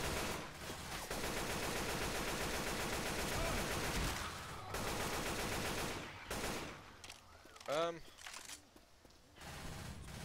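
Rapid automatic gunfire in Left 4 Dead, sustained bursts of shots filling most of the clip with brief pauses, then sparser shots and sounds near the end, with some talk mixed in.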